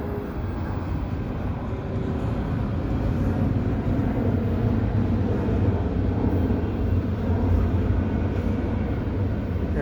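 A CPKC westbound intermodal freight train led by three engines rolls past at Dorval at night, a continuous heavy low rumble of wheels and cars that stays steady and close throughout.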